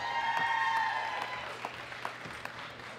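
Applause from an audience at a junior men's 93 kg world classic powerlifting championship medal ceremony, a steady crowd clapping that starts strong and slowly thins out, with a few louder individual claps near the end.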